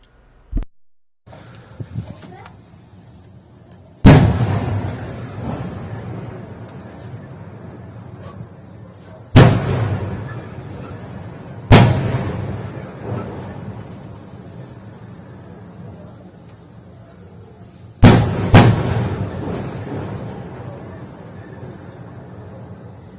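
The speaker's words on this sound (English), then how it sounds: "So these are the explosions out at Chernobivka." War explosions at Chernobivka land as five sharp, loud booms spread over about twenty seconds, each trailing off into a rumbling decay over steady background noise.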